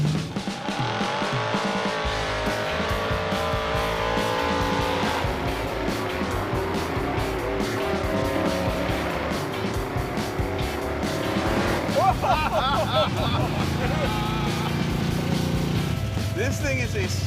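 426 Hemi-powered Gremlin street car roars off with loud engine revs, tire squeal and shifting gears, the engine dominating while people talk over it inside.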